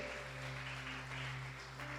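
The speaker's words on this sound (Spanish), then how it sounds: "Dale un aplauso al Señor y Salvador Jesucristo" A church congregation applauds in praise of Jesus Christ during a Spanish-language service, a faint, steady wash of clapping over a low electrical hum.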